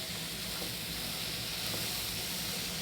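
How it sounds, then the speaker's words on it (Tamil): Carrot with turmeric sautéing in a pan for carrot chutney, a steady close hiss and sizzle running unbroken throughout, with no talk. "இந்த கேரட் கொஞ்சம் பச்சை வாசனை போகிற வரைக்கும் வதக்கிக்கலாம்"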